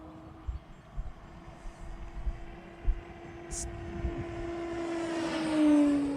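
A remote-control Avios C-130 model plane doing a touch and go produces a steady electric motor hum with a rising and falling whine as it passes, heard outdoors at moderate distance over faint wind thumps.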